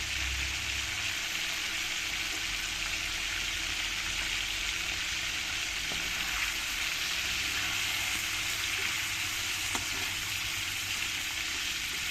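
Chicken pieces fry in hot oil with a steady, continuous sizzle, fairly close and constant in level, with no talking.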